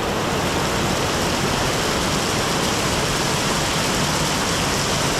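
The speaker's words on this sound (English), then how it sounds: "We have this kind of flooding right in here because of this water just pouring down there" Heavy rain pours down and floods a narrow alley in Macau, a loud, steady, unbroken wash of falling and rushing water with no voices over it.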